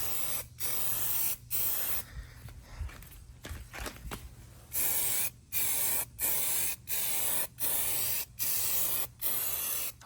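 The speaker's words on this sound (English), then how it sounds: "I'm using SEM Trim Black. You guys already know that's my favorite spray paint." SEM Trim Black spray paint is sprayed onto a part from a Vortec 350 swapped Olds Cutlass Supreme, close hissing bursts in a regular rhythm of short passes, with a quieter shuffling stretch in between.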